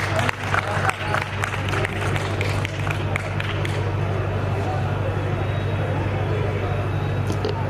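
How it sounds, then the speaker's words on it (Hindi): An audience at a book discussion at the Lucknow Book Fair breaks into applause, a dense burst of clapping that fades into a sustained patter over a low hum, with voices mixed in. "इस पर जोरदार ताली बजाइए।"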